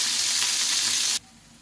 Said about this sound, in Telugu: ఇప్పుడు ముందుగా మనం మిక్సీ పట్టుకున్న పచ్చడి తాలింపులో వేసేసుకోవాలి